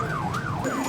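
An ambulance siren wails in a rising and falling sweep, loud and near, filling the whole brief moment with no voices over it.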